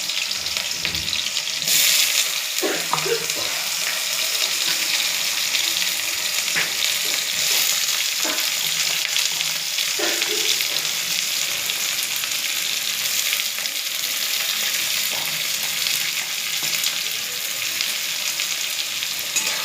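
Onions for a simple chicken dish sizzling loudly and continuously in a pan, a dense close frying hiss with occasional stirring clicks throughout, no voices.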